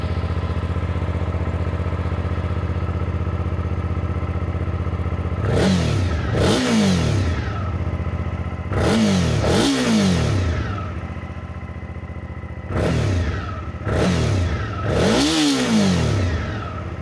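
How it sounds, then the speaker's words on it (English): A 2024 Suzuki V-Strom 650 motorcycle engine idles loudly up close, then is blipped through six sharp throttle revs in three paired bursts, each rising and falling quickly back to a steady idle. "Now let's hear the sound of the bike."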